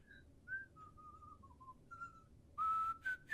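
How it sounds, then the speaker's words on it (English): Someone whistles a short, wandering tune of clear sustained notes, soft at first, then louder and brighter in the last second, with no talking. "Nice whistle. It's awesome."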